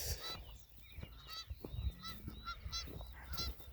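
Canada geese honk repeatedly beside a farm's corn variety test plot, with several loud, nasal calls scattered irregularly over a low outdoor rumble.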